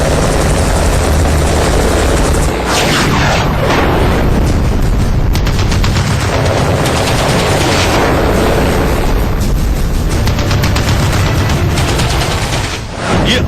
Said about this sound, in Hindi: ये अपाचे हेलीकॉप्टर है, दुनिया का सबसे खतरनाक अटैक हेलीकॉप्टर।